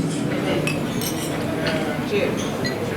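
Glasses clink together during a toast at a 50th wedding anniversary celebration, a dense, continuous scatter of light chinks over a murmuring crowd.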